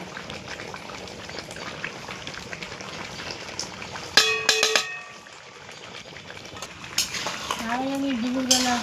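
Spices frying and being stirred in a pan of oil, with turmeric and Kashmiri chilli powder, for a Bengali chicken kosha. There is steady sizzling with sharp clinks and scraping from about four seconds in, and a faint voice and tonal sounds near the end.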